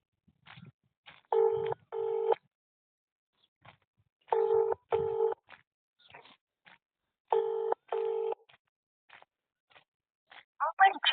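Phone call ringback tones sounding in three paired bursts with pauses between, punctuated by faint handling noises and a brief voice at the end.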